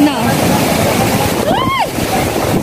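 Floodwater from Typhoon Odette overflows a spillway with a loud, constant roaring rush, and a voice talks over it.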